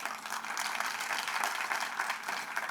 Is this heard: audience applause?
yes